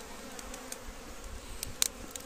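Italian honey bees buzzing during a honey harvest, a low steady hum with faint close passes of individual bees flying near, no voices.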